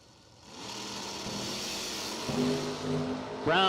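A 1969 Camaro and a 1970 Nova at a door-slammer drag race, engines rumbling and building at mid distance, then a sharp rising rev near the end.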